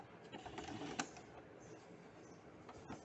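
A sewing machine stitching the sleeve placket of a men's kurta runs in a faint, steady mechanical whir with light rhythmic ticking and a few sharper clicks, heard up close with no voices.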